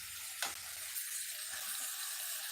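Ingredients for egg gravy sauté in a pan with a faint, steady sizzling hiss and a couple of soft stirring knocks, quiet and close, with no one talking.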